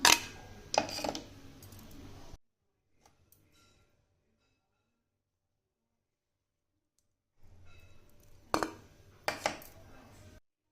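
Ginger garlic paste and yogurt marinade stirred in a bowl, giving soft scraping clicks and clatter at the start and again near the end, with a long quiet pause between.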